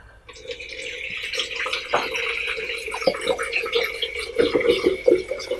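Coolant pours from a jug into the large radiator of a Ford F350 V8 turbo truck in a home garage, a continuous close gurgling fill with small splashes and drips that builds slightly louder toward the end.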